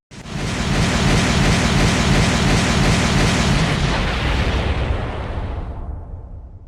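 A cartoonish explosion bursts out as Microsoft Sam's head blows up in a violent tantrum, one loud, dense blast that rumbles on for several seconds before tailing off, with no voices.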